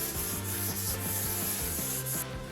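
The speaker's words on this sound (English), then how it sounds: "use a sanding sponge, give it a light sand" Steady back-and-forth rubbing of a sanding sponge on a surface, light and rhythmic strokes repeating several times, close up.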